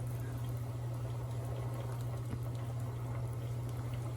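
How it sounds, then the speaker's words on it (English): Pasta water bubbles at a low, steady boil in a pot, quiet and continuous over a constant electrical hum. "Turn down your heat just a little. Let it keep boiling."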